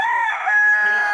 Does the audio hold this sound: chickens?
yes